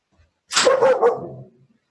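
A dog barks once, close and loud, a single sharp bark that trails off, with silence around it.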